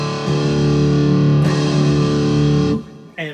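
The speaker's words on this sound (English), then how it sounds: "So your bottom three strings are going to sound like this." The bottom three strings of an electric guitar in drop D tuning ring out as a loud, sustained distorted chord lasting nearly three seconds, then cut off, followed by a brief muted strum.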